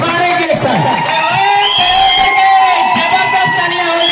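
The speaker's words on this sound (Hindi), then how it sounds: "सभी गुरु के लिए जोरदार ताली, और साथ में अमरदीप सर के लिए जोरदार ताली।" A large seated audience at an indoor success-story event erupts in loud whoops and cheers that fill the room throughout, with shouting voices carried on top of the sustained crowd noise.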